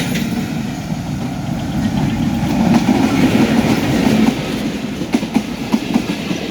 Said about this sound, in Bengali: দুটো ট্রেনের ক্রস হচ্ছে এক জায়গায়